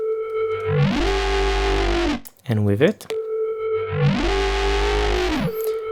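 Cyberpunk 2077-style synth bass with a chorus pitch LFO transposing it up one semitone, played as two sustained phrases: first without the modulation, then with it, gliding and buzzing with distortion, a brief spoken phrase between them.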